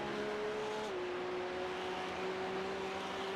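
Race cars in the iRacing sim game, a steady engine drone with a shifting pitch as the cars brake and accelerate side by side, continuous and fairly loud, no talking.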